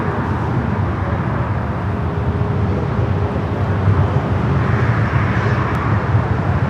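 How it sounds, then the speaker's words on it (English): A JetBlue Airbus A321 airliner arriving at LAX sends a steady, loud low engine roar that holds throughout with a faint thin whine above it, no voices over it. "Next arrival here on the north side, JetBlue Flight 2801, coming in from Fort Lauderdale."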